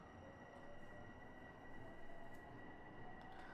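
A Long Island Rail Road train in a train simulator game accelerates with a low, steady rumble and motor hum, faint whining tones riding on top of the continuous rolling noise.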